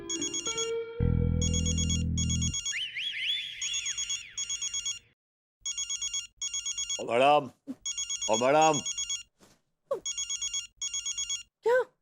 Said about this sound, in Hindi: आपका फोन बज रहा है, वो देखिए घंटी बज रही है फोन की